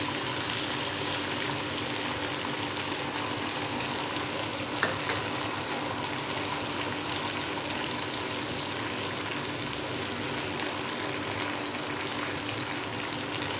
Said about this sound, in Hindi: इन्हें 2 मिनट के लिए फ्राई करेंगे अच्छे से।